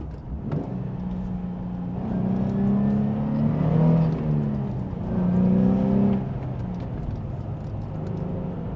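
A Nissan 350Z with a VQ35 V6 revving near the 7,000 rpm mark, two rising surges of engine tone climbing in pitch and then falling back to a rough idle, close and loud.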